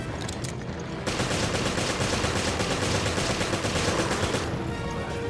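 Sustained rapid gunfire from Resident Evil Revelations, a steady, dense burst of shots that starts abruptly after a second of quieter ambience and holds loud and close to the end, no talking.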